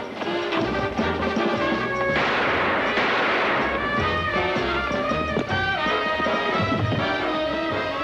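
Staged gunshots in an old radio drama sound as several sharp, crashing bangs, loud and close, mixed in with music and other production sounds.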